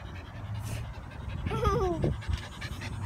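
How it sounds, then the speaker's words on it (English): A dog pants in quick, close breaths, with a short whine partway through and brief talking around it. "That's my dog."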